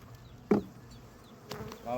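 Honey bees buzz around a small resource hive, a close, droning hum with a few louder passes as individual bees fly near.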